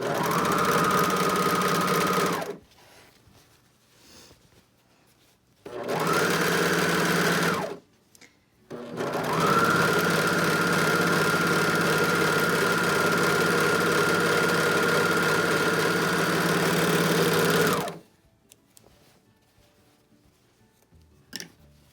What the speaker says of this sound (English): You're sewing this just like you would any other typical pocket.